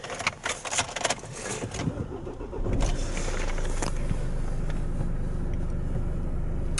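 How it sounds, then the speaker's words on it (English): A Nissan X-Trail dCi Sport diesel cranks and fires up close by, with a brief whir and catch, then settles into a steady, even idle hum that holds to the end. "so let's start the engine."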